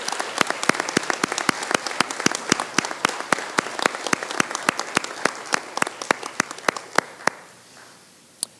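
An audience applauds sophomore Alpha Scholars at an Alpha Beta honors ceremony, sparse and steady clapping that fades out after about seven seconds, followed by one last lone clap.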